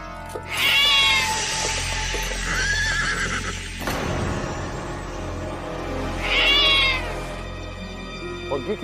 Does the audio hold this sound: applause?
no